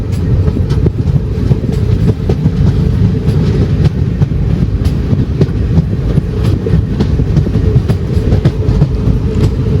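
A train rumbles steadily along the rails into the old Nemom railway station, near Thiruvananthapuram South, with a rhythmic clatter of wheels, loud and close, with no voices.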